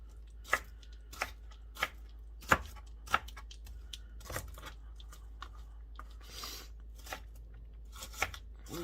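Kitchen knife chopping onions on a cutting board, a series of sharp irregular taps, close and fairly quiet, with scraping in between and no talking.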